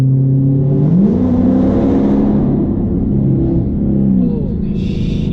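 A Dodge Charger 392 V8 accelerates loudly through a tunnel, its engine note climbing and droning in an echoing, enclosed space.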